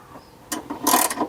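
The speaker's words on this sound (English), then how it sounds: "now it's just a matter of wrenching it in" A wrench ratchets a greased rear leaf spring shackle bushing into place, a short burst of close, clicking mechanical ratchet strokes that grow louder toward the end.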